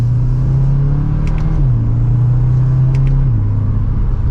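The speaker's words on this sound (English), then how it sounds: "Mild acceleration, we're up to speed" A 2024 Audi S3 Premium Plus accelerates from second gear, heard from inside the cabin. A loud, steady engine drone rises and then settles, with quick dips in pitch at the paddle shifts.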